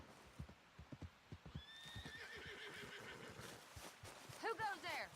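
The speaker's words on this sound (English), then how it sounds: "Caballo." A horse in the Red Dead video game whinnies twice, a rising call and then a louder, shakier one near the end, while hooves clip-clop steadily throughout and a voice talks quietly underneath.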